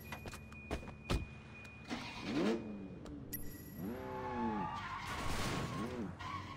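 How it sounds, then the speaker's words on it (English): A fast car's engine revs and shifts in the Sleeping Dogs video game, rising and falling in several surges, moderately loud amid street effects and a brief mechanical whir. "Well, this is a fast car, right?"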